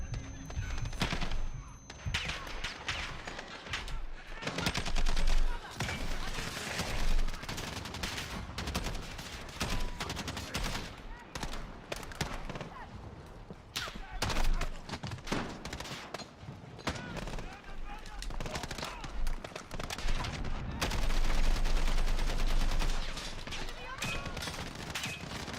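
Sustained automatic gunfire in the 2019 Call of Duty: Modern Warfare video game, dense overlapping bursts and shots continuing nearly throughout, loud and close, with voices underneath at times.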